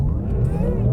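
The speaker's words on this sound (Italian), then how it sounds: "Launch control attivato." Porsche Taycan Turbo electric sports car launched hard from a standstill under launch control, a loud close-up rising whine and rumble of acceleration inside the cabin.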